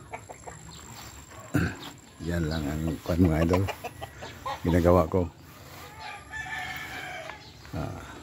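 Roosters cluck and crow close by in repeated bursts, with someone speaking between and over the calls in a rural yard.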